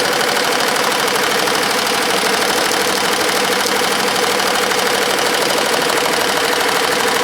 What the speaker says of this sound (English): So we got it on the machine, and we're starting to embroider our mirror border.